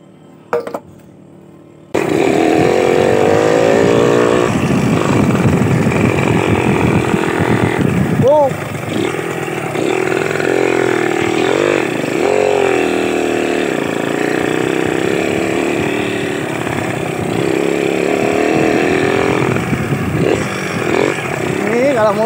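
An off-road motorcycle engine with a carburetor overflow problem runs loud and close after a brief quiet start, idling and revving unevenly for about twenty seconds, with a voice heard over it.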